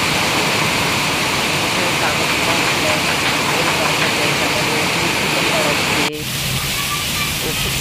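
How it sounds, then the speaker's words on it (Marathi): Heavy Friday evening rain pours down in a loud, continuous hiss and roar, with water splashing on surfaces; the wash briefly cuts and resumes slightly softer near the end. "खूप जोरात पाऊस पडतो"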